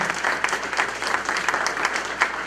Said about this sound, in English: Ladies and gentlemen, a round of applause for both of our candidates for being here tonight.